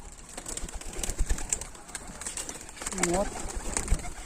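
Pigeons coo softly close by, low throaty calls rising and falling beneath people talking nearby, with a light, noisy background throughout.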